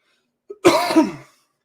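A single harsh, close cough, preceded by a short intake, loud and abrupt with a rough throaty tail.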